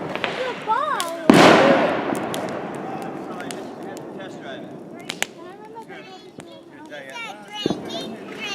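Fireworks bursting over a lake up north, one loud sharp blast near the start followed by a few scattered pops and crackles, with voices chattering faintly and whistling tones in the background.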